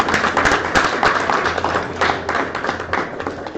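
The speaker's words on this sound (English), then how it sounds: "give yourselves a round of applause" Audience applause at a comedy anniversary show, dense steady clapping from a crowd filling the room throughout, with faint voices mixed in.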